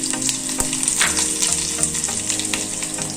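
Turmeric and spices fry in hot oil for tomato rasam, giving a close, loud, continuous sizzle with crackling pops and an occasional clink of a utensil.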